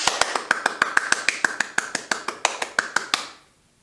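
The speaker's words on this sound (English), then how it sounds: "the students can tap their iPads to simulate clapping as many times as possible" Simulated clapping played through classroom speakers, triggered by students tapping iPads: a steady run of about twenty crisp, evenly spaced claps, clear and close, ending abruptly into silence.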